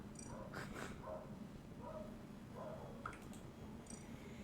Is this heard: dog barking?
yes